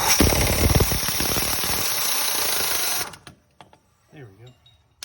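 An air-powered impact driver rattles loudly and steadily for about three seconds while removing a bolt from a car's control arm, then cuts off abruptly, followed by a few faint clunks and brief speech.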